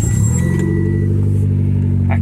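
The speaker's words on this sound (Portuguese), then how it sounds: "mas tem que ligar o carro" A 2012 black Mitsubishi Lancer Ralliart Sportback AWD engine starts, a loud cranking catch settling into a steady low idle hum close by.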